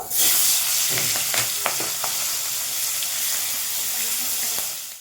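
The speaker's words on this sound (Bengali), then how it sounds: "এবার আমি চিংড়ি মাছগুলো ভেজে নেব" Steady, loud hiss of shrimp frying in hot oil, with a few scattered pops and crackles throughout; no talking.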